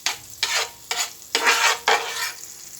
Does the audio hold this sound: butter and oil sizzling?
yes